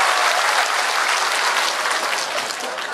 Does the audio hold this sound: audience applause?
yes